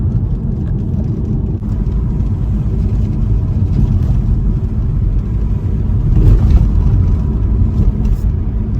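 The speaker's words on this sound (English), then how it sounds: "the noise of the water is so loud it just kept us awake all night, because we've got them rapids there." Loud river rapids rush past a tent pitched by the water in Glen Etive, a dense, continuous low roar that stays steady throughout.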